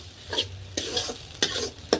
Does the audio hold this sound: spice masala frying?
yes